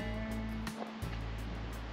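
Floodwater rushes steadily across a ranch after a night of heavy rain, a constant broadband roar with a low droning hum underneath, close and continuous.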